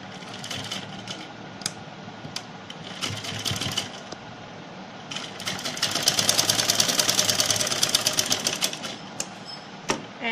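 Sewing machine stitching a strip onto a short kurti with cut sleeves: intermittent quick bursts of whirring and clicking, then a sustained close run of rapid stitching before it stops and starts again.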